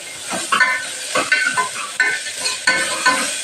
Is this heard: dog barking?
no